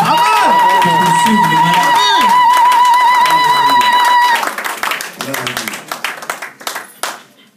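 A church congregation claps and cheers in a loud, dense burst that holds for about four seconds, with music and voices over it, then thins into scattered claps that trail off.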